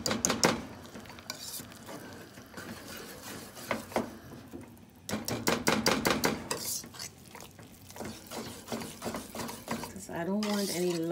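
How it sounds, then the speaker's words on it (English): A whisk works through a flour mixture in a pot for corn-free polenta, giving steady scraping, clicking strokes against the metal with a few bursts of faster beating, close up, under a low background hum. "I don't want any lumps. This is why I'm using the whisk."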